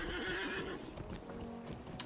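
A horse whinnies in the Lord of the Rings Online video game, one loud neigh followed by soft hoof clip-clops, with no talking.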